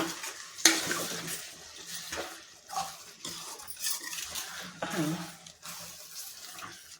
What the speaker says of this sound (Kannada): ನೋಡಿ ಹೀಗೆ ಫ್ರೈ ಮಾಡಿ ಒಂದ್ಸರಿ ಫ್ರೈ ಮಾಡಿ.